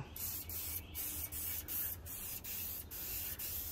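A steady hiss of base coat paint being sprayed onto a car without a paint gun or air compressor, in repeated bursts with brief pauses between passes, close and outdoors.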